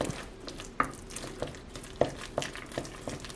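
Stove Top stuffing mixed with egg is stirred in a bowl, a spoon clicking and scraping against the side in a steady series of distinct knocks over a soft moist churning.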